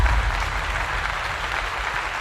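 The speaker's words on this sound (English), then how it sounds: "Give y'all some claps." Crowd applause at a live sports broadcast with college football talk, steady and moderately loud, with nobody speaking.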